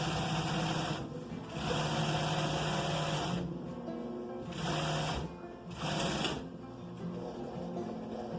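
A sewing machine stitches an upholstered seat in a loud, steady whirring run that stops and restarts several times in short bursts, close by with no voices.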